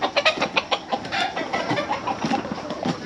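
Expensive pet chickens cluck in a quick series of sharp, close calls, several birds overlapping in an irregular, busy rhythm.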